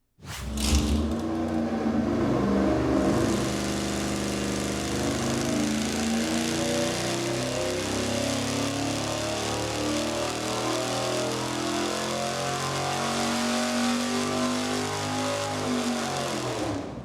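A dual-quad cross-ram intake V8 on a dyno starts with a sharp bark, then settles into a sustained, loud, rising roar that pulls hard for about fifteen seconds before it cuts off.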